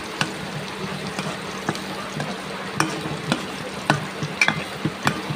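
Onion, garlic, bay leaf, black cumin and fenugreek seeds fry in hot oil with a steady crackling sizzle, while sharp spits and pops break through now and then at close range.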